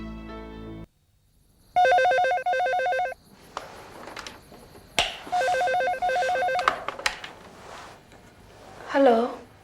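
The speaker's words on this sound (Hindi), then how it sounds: "आशीष, तुम क्यों फोन किया तुमने?" Telephone ringing in a Hindi TV drama scene, a synthetic ringtone sounding in repeated bursts with gaps between them, followed by rustling movement and a brief voice near the end.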